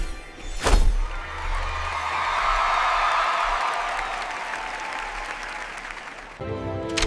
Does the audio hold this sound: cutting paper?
no